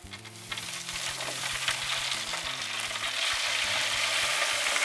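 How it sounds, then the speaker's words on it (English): Leg of lamb sizzling on a Weber grill as lemon juice is squeezed over it, a steady close crackling hiss that swells slightly and holds loud throughout, with no talking. "I'm actually gonna squeeze that leg of lamb with some more lemon juice"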